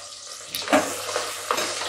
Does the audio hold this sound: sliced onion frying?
yes